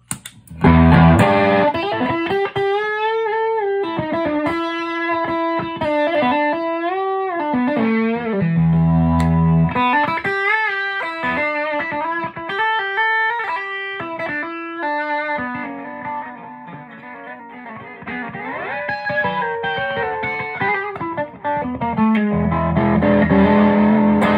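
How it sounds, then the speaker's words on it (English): A distorted electric guitar plays chords and riffs through a warm medium-gain tube overdrive pedal, loud and continuous with no voices. "be used nice medium gain overdrive when you crank that gain knob up"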